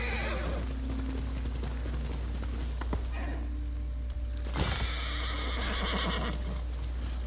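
A video game horse whinnies loudly and its hooves clop in quick bursts over a constant low game hum, with a sharp clatter midway.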